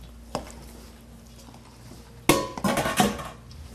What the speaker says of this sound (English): So we'll just put the liquid in with The dry ingredients. We're going to mix this together.